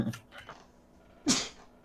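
A person sneezes once, a sharp sudden burst after some faint breathy sounds, close and fairly loud.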